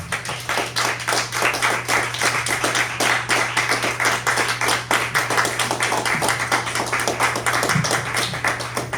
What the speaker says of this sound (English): Will you please welcome with some applause, Mr. Ryan Russell.